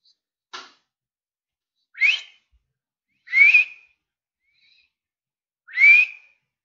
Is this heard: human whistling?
yes